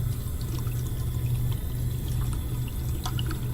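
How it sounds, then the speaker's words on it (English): A cold water tap turned on halfway in a house runs with a steady, even rush of water, constant and close throughout. "Turn on a cold water tap halfway to imitate a low pressure period in a house"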